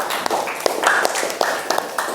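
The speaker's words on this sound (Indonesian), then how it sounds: "Tepuk tangan untuk Mas Ivel." Scattered clapping from a classroom audience during a teacher-training lesson on qurban animal slaughter, with a handful of distinct hand claps and quieter taps over about two seconds.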